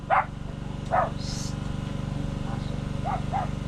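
Several short dog barks from a guard dog, a few close and a couple fainter, spaced over a steady low mechanical hum, on a calamansi farm during plowing.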